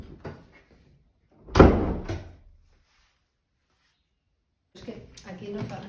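A door swings shut with one solid, close thud. People talk briefly before it and again after a pause.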